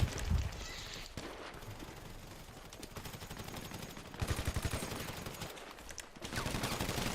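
Bursts of automatic gunfire crackle through a shootout in the video game Devil's Few MC, dense volleys swelling and fading over several seconds with a steady roar of game noise beneath.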